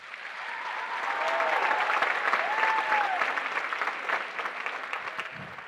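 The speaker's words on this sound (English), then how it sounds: "A round of applause for them." Sustained applause fills a high school auditorium, a dense crowd clapping steadily at full strength for several seconds before tapering slightly, with a few faint whistles riding over it.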